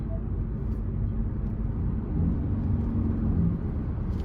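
A 2023 Ford Escape Hybrid ST-Line Select AWD with a 2.5 engine in sport mode, heard as a steady low engine drone inside the cabin with road rumble, constant and moderately loud.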